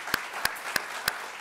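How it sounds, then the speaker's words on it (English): Four slow, evenly spaced handclaps ring out in a quiet room during a church service, sharp and fairly faint. "can we give her a round of applause for putting up with us?"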